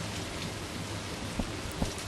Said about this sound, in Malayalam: ഡോറ് തുറന്ന് കൊടുക്കണം മഴയാണ് ഗൈസ്